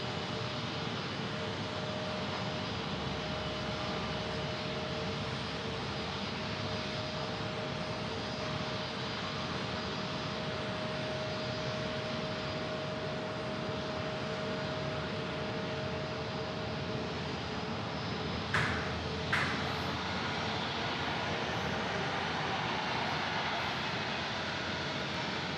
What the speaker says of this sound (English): This is our MAX 8 right there, taxiing off the runway from JFK.